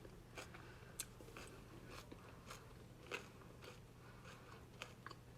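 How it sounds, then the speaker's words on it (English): Crisp bites and crunchy chewing into a warm bagel topped with garden vegetable cream cheese, several close, quiet crunches spread through the moment over a faint hum. "Warm bagel with cream cheese on top."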